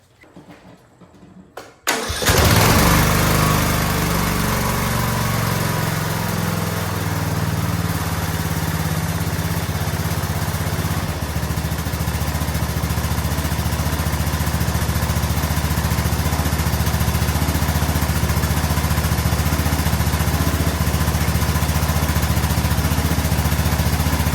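A Craftsman DYT4000 riding mower engine cranks and fires after a quiet moment, then runs loud and close, idling with a steady chugging drone before climbing to a higher, even rev that holds to the end.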